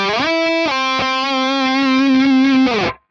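A distorted electric guitar plays a short Phrygian dominant phrase, notes sliding upward into a long sustained bend that slides off before cutting out.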